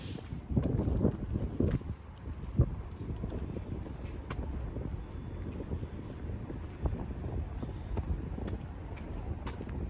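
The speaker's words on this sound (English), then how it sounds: "So it's a little bit windy outside." Wind blusters against the microphone outdoors on a residential street in the Moore Park neighbourhood, a steady low rumble with irregular gusts and faint thumps, and no talking.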